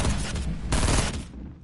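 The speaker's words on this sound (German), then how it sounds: "Ah, Schuss" Rapid bursts of gunfire from the video game Fortnite, two dense loud volleys close together, the second stretching longer before trailing off.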